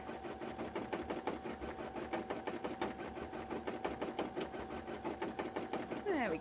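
An embroidery machine stitches a beaded cosplay piece, making a quiet, fast, even mechanical patter of needle strokes that runs without a break and ends in a brief rising whir.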